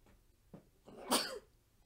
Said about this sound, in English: Wonder why I'm sneezing. Why on earth would I be sneezing?